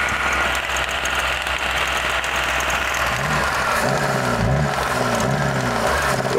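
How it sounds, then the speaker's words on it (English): PT Cruiser rally car engine at idle, suspected of running short on fuel, a rough loud rumble heard close, settling into an uneven low throbbing idle in the second half, with no talk. "It idles better than on throttle now."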